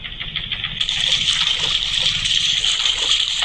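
Water splashing and gushing in the Granny horror video game, a continuous bright rushing wash that swells after the first second and holds steady, with no talking.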